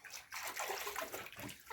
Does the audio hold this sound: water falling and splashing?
yes